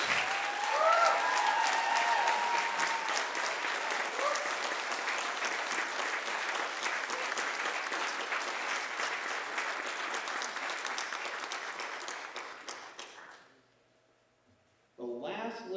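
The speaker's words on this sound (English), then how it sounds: "So how about a big round of applause for all of these students?" Sustained audience applause for honor band students at a school band festival concert, a dense wash of many hands clapping for about thirteen seconds before fading out; brief voices and noise return at the end.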